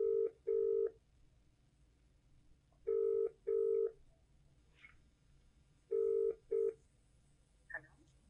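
Telephone keypad dialing beeps sound in three spaced pairs of clear, loud tones over a quiet room hiss, with a faint soft chirp between them.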